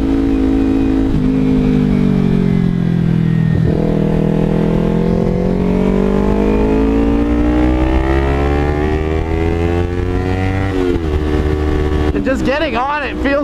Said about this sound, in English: Because these pops are just one of my favorite parts about this exhaust.